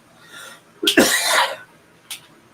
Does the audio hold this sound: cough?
yes